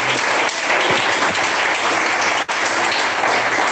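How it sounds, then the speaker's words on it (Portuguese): A church congregation claps together steadily for nearly four seconds, a dense and even wash of applause with one brief dip partway through. "Palmas que glorifica a Deus."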